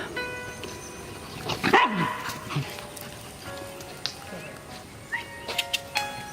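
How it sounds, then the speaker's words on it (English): Dogs scuffle and fight some distance off outdoors beside a garden, with a sharp burst of barking and snarling followed by scattered yelps and barks; a voice talks faintly over it. "And we've got fighting dogs in the background."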